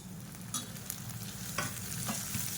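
Green sundakkai turkey berries sautéing in oil make a soft, steady sizzle, with a few scraping stirs of a spoon, quiet and close.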